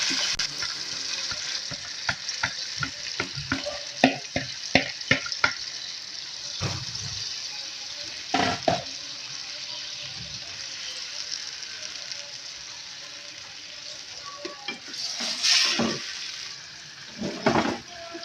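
Chicken pieces for lemon chicken fry in a pan with a steady bright sizzle, broken by clattering stirs and scrapes of a utensil, all up close and without talk.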